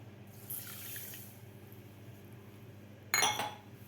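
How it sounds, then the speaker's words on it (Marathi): A bowl of water pours onto two bowls (300 g) of sugar in a pan to make syrup for gulab jamun, in two short splashing bursts, the second louder and brighter, amid quiet surroundings. "आता त्याच वाटीनं आपल्याला 1 वाटी पाणी घालायचं आहे"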